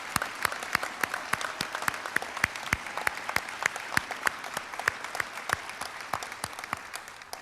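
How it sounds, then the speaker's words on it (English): Steady audience applause at a high school People's Choice Awards ceremony, with sharp individual claps standing out above a continuous crowd wash for several seconds. "Let's give a big round of applause for"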